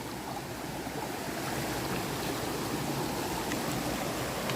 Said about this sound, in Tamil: அவ்வளோ ஹைட்லேருந்து தண்ணி வந்துட்டுருக்கு மேலே மலையிலேருந்து ஊத்தூரி